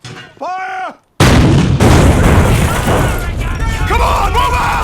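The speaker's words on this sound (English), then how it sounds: "The destructiveness of tank shells is an incredible force of nature. You can feel the power when one gets shot in this show." Tank shell fire and explosion from a Band of Brothers episode: a heavy boom erupts after a brief voice, followed by sustained loud rumbling battle noise with more voices faintly underneath.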